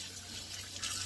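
Vegetables being rinsed under a running kitchen tap for bean soup, with a soft, steady hiss of water splashing in a sink that grows a little louder toward the end.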